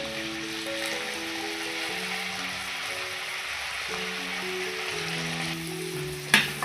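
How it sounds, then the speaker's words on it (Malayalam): Carrots and green peas sautéing in a pan for carrot peas fried rice, giving a steady, close sizzle with a low hum under it and a sharp clink near the end. "നന്നായിട്ടൊന്ന് വഴറ്റി കൊടുക്കാമേ"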